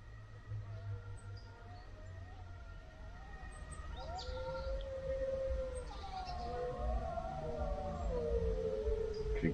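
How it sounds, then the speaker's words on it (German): Wolves howl in the mountains near an abandoned mountain swimming pool, several long wavering cries rising and falling and overlapping, fairly distant over a low rumbling background. "Warte, hier sind Wölfe."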